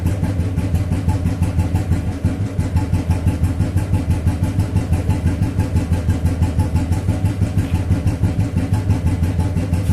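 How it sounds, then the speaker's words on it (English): A Royal Enfield 350/500 cast iron engine motorcycle idles close by during carburetor setting, its loud, steady thumping exhaust beat pulsing evenly and continuously with no talk over it. "I'm keeping the bike on for some time"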